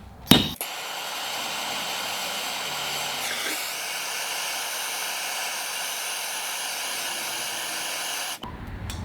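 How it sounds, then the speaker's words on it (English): Torch flame heating a solder seal wire connector, a sustained steady hiss that starts abruptly after a brief click and cuts off sharply near the end. "If you get these too hot with a torch,"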